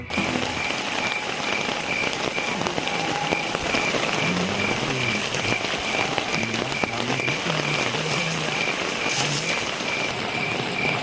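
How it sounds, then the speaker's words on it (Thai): Heavy rain pounds steadily on a tent and tarp at a campsite in Wang Nam Khiao, a dense, loud patter lasting throughout, with faint distant voices underneath. "ตอนนี้ฝนตกก็เลยว่าหนักไหมหนักเลยทีเดียว"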